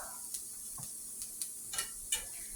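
Dehydrated hashbrowns fry in a pan with a faint, steady sizzle, broken by a few soft clicks and taps of a utensil stirring, quiet and close.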